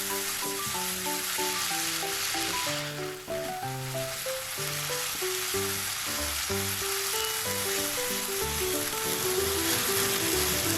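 Pork chops pan-fry with onion and lemongrass in a steady, quiet sizzle that sits under light background music throughout.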